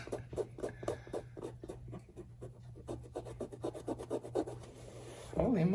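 Suede leather shoes are scrubbed with white vinegar in rapid, rhythmic brushing strokes, close and scratchy, ending with a brief voice.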